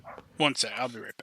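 Matilda, a dog, yips and barks briefly in the background while a person talks over her.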